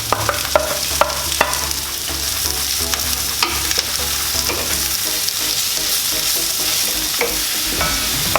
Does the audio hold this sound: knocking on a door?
no